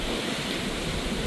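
Wild, windy ocean waves at sea seen from aboard the cruise ship Symphony of the Seas: a dense, constant roar of surf and wind, loud and unbroken, with no voices.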